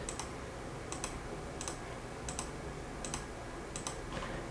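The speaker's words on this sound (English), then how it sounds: "just click a few buttons" Faint, paired mouse clicks come in small bursts at roughly one-second intervals in a quiet room while a route is created on the Strava website.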